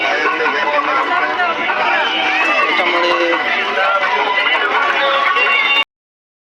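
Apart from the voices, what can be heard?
crowd bustle at Rajur fair market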